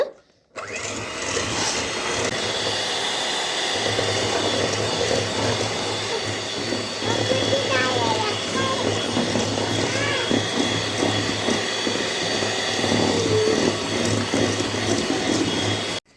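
Electric beater whipping eggs with sugar, a steady close motor whir with the whisks churning continuously, while a voice talks over it at times.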